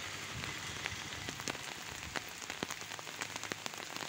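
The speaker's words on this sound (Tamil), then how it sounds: "மழை விட்ட பாடு இல்லை." Heavy rain pours down in a village in Ervadi, a dense, constant hiss with scattered close drips and splashes throughout and no voices.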